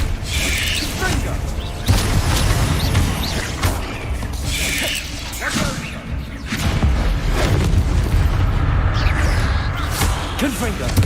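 Repeated Confringo fire-spell blasts go off in the Hogwarts Legacy wizarding game, forming a steady run of mechanical bursts and booms over a continuous combat background, with a voice talking throughout.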